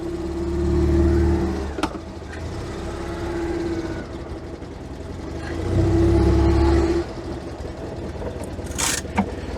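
An Invacar invalid carriage pulls away in forward gear, its small engine revving up in two swells and dropping back between them, close by and fairly loud, with a brief high squeal near the end.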